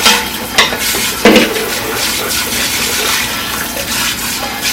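Caraway pot rinsed under a running tap, a steady close rush of water with a few clunks and splashes of cookware being handled, fairly loud and without talk.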